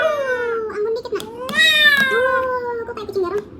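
A young child mimics an alley cat with a series of meowing, wailing cries that rise and fall in pitch, close and loud, with mealtime bustle in the background.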